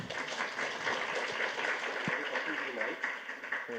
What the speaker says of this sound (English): So let's have some applause for Kyrillo,